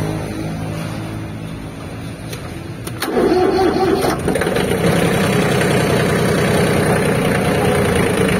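A Kubota farm tractor engine cranks over briefly, catches and settles into a steady, loud, close idle that runs continuously to the end.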